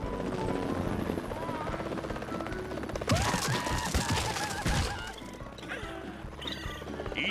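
A cartoon helicopter's steady rotor drone runs throughout, with sharp louder bursts in the middle and voices mixed into the noise.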